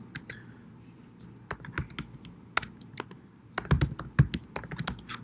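Typing on a computer keyboard, close and fairly quiet, with irregular bursts of key clicks broken by short pauses.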